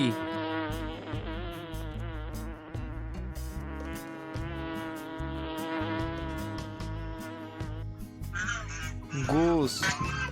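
Bee buzzing in a steady, continuous drone layered over background music, with a brief honk-like call near the end.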